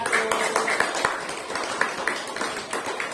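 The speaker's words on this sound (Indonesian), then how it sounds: "Beri aplaus yang dulu untuk kelompok 1" Fifth-grade classroom applause for group 1, a steady patter of many small hands clapping close by, continuous and moderately loud, with no voices.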